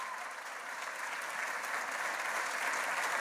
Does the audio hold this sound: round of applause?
yes